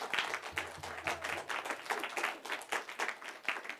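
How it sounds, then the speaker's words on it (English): A church congregation gives a round of applause, scattered and fairly faint clapping in an uneven rhythm, with a murmur of voices early on. "Yeah, round of applause."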